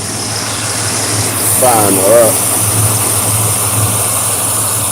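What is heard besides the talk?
engine running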